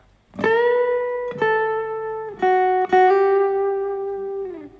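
An acoustic guitar plays the intro phrase of a Thai song: a slow run of clear, sustained single notes picked one after another, ending with a gently bent note that slides down, close and alone.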